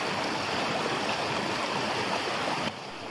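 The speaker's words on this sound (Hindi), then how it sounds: "पानी की आवाज़ का अपना ही एक अलग मज़ा होता है।" Steady broadband rush of moving water at a natural village lake, continuous and fairly loud throughout, dropping slightly in level near the end with no voices.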